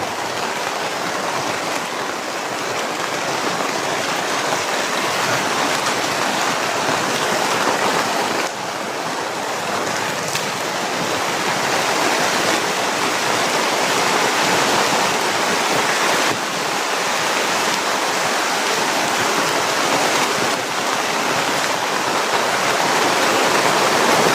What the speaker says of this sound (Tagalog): Kita niyo, sobrang lakas ng ulan.